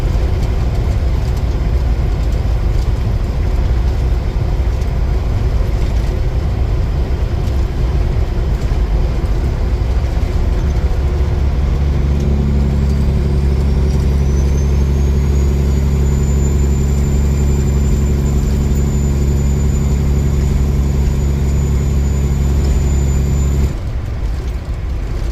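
A vehicle drives along a road through Buckland, Kansas, giving a steady loud rumble of road and wind noise throughout, with a deeper engine drone and a high whine joining in partway through.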